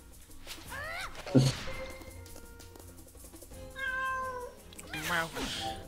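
Cats meowing in the video game Wakfu, several rising and falling meows spread across the clip, fairly close and clear over game music and effects, with speech audible in the background.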